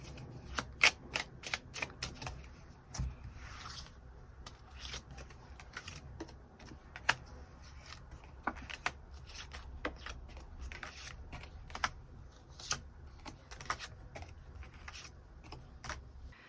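Tarot cards are shuffled and drawn close by in a quiet room, with soft repeated riffling and sharp snapping card taps scattered irregularly across the stretch, and no talking.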